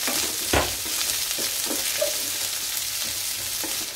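Onions sauté in a pan for a mushroom tortilla, giving a continuous close sizzle with a few scrapes and stirring knocks and no talk.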